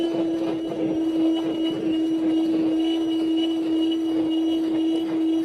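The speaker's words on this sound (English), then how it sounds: "I'm going to turn the vacuum back on." A vacuum cleaner runs steadily in a home workshop during late-night sword sanding, a loud continuous drone with a strong steady hum, unbroken for the whole stretch.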